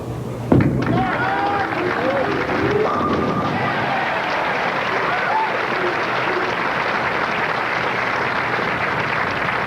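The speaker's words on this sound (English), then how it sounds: "Cheering of the Duke fans in the crowd." Fans at a 1993 professional bowling tournament cheer and applaud loudly after a shot, a sustained crowd roar with scattered shouts that follows a sharp thud at the start and holds steady to the end.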